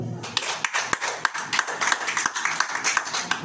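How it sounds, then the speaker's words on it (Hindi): A congregation at a Hindi-language church sermon claps in a fast, steady rhythm, many quick hand claps repeating over a noisy, reverberant background. "ताली बनेगी भाई।"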